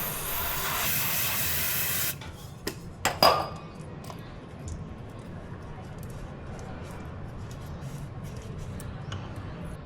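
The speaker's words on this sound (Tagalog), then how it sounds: "I'll apply degreaser, make sure it's clean" Degreaser sprayed onto a Triumph Trident 660 motorcycle during an oil change, heard as a loud, steady spray hiss for about two seconds, followed by a few clanks and quieter background noise.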